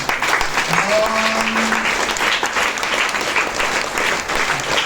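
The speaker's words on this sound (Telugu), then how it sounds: "సన్నాయి లేదు కాబట్టి చప్పట్లతో ఆనందింపజేయాలి" Steady applause from a gathered crowd at a Shiva-Parvati divine wedding ritual held for Mahashivaratri, loud and continuous clapping with voices and a brief tonal sound mixed in.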